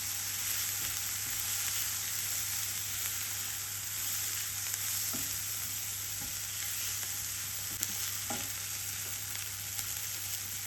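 Onions frying in a pan with salt, mixed herbs and black pepper, a faint, even sizzle over a constant background hum, with a few soft clicks and no voices.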